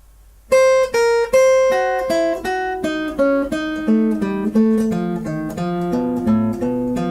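Plucked guitar notes run quickly up and then back down a scale in an even, brisk rhythm, each note ringing clearly with no voices.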